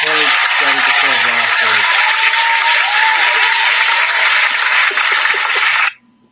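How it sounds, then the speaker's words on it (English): Loud sustained applause from a crowd, steady clapping texture throughout with a voice talking over the start, cutting off abruptly near the end. "Round of applause for that one"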